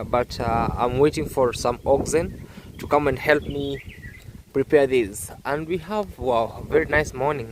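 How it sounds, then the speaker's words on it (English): Morning birds chirp faintly on a farm field where furrows are being made, their calls slipping in between someone speaking nearby. "Listen to the birds chirping."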